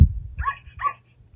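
Two short electronic barks from a Chongker Percy interactive robot dog, evenly spaced and fairly close, standing alone with no talk over them.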